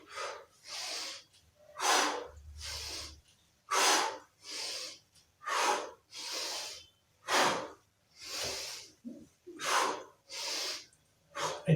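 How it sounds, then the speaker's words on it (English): Heavy, rhythmic breathing from someone doing a set of bodyweight squats in a full-body warm-up, with about a dozen loud, close breaths out and in, evenly paced with short pauses between them and no talking. "Breathe out when you go up, breathe in when you go down."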